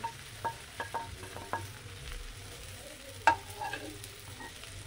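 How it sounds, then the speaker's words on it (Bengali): Mashed potato, fish and spices are sautéed in a pan for fish chops, with a soft, quiet sizzle under several distinct metallic clinks and scrapes of a spatula, one louder knock standing out. "এবার মশলাগুলোকে আলু আর মাছগুলোকে দিয়ে ভালো করে কষে নিব।"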